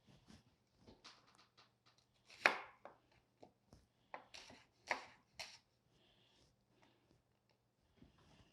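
Shallots cut into big chunks with a knife on a board, a series of close, crisp chops in irregular bursts, a few louder strokes in the middle, then quieter taps.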